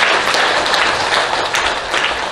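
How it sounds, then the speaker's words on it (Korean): A church congregation applauds during a pastor's anniversary and associate pastor installation service, a dense, steady wash of many hands clapping at close range for a couple of seconds with no voices over it. "박수를 치려면 크게 치셔야 됩니다."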